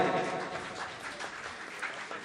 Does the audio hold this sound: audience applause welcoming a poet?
yes